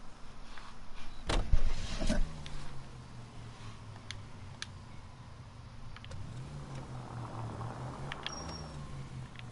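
A car being driven in the video game L.A. Noire, its engine humming low and steady with a rising then settling pitch, preceded by a couple of sharp clunks like doors shutting.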